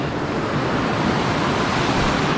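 Water rushes steadily in a forest stream at a trail crossing, a loud, dense, continuous wash with no pauses.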